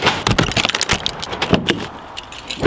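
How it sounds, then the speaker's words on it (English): A bunch of keys is snatched up and shaken, giving a loud, close run of metallic jingles and clinks with uneven rattling bursts. "Grab the keys."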